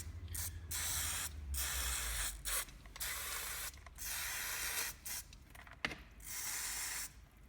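Cleaner sprayed into an ST400i fencing stapler held slightly inverted, in a run of loud hissing bursts of varying length separated by brief pauses, close up with no talk.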